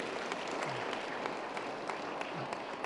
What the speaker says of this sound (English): Tell Ron we clap for him